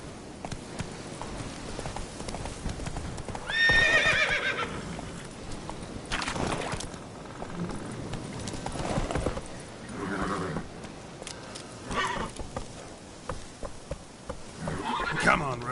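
A horse gallops in The Witcher 3 video game: rapid clip-clop hoofbeats drive steadily throughout, with a sharp whinny near the four-second mark and a buzzing insect-like hum mixed into the game sounds.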